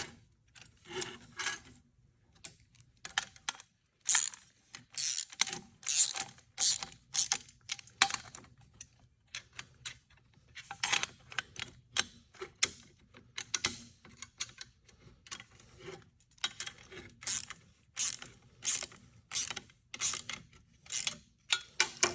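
Hood hinge bolts are tightened by hand with a ratchet, a long run of close rapid clicking bursts with brief pauses between them.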